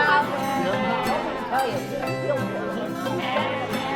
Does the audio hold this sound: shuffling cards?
no